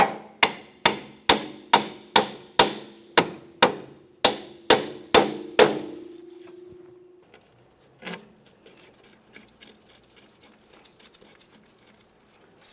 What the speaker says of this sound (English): Slide these 2 pieces together. Once it's aligned, go ahead and tap it into place.